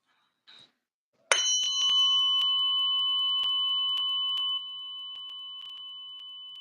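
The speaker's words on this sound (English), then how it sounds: "the tuning fork sounds much brighter now and also more stable" After a faint brief tap, a tuning fork is struck and rings with a pure sustained tone, bright and steady, slowly fading over several seconds with a few soft clicks around it.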